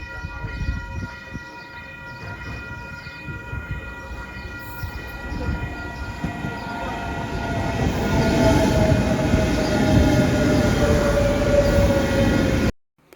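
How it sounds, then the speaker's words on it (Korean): A passenger train arriving at Vila Nova de Gaia station in Porto, its loud rumbling interior noise building steadily with wheel squeal and tonal whines, then cutting off abruptly near the end. "기차를 타고 포르토에 도착합니다"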